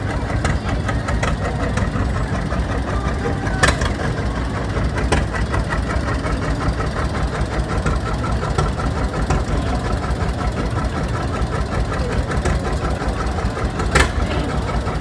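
A tractor engine idles at an outdoor parade, a steady low rumbling drone with a faint knocking pulse running unbroken and fairly loud, occasional brief clanks standing out above it.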